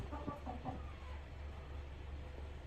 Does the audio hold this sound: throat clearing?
no